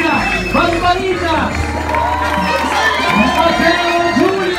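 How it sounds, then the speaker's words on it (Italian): A crowd cheers, whoops and shouts loudly, with scattered clapping underneath, sustained and close throughout the burst of excited noise. "fare un forte applauso per Latino 51"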